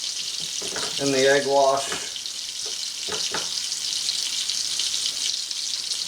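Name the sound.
collops frying in butter in a pan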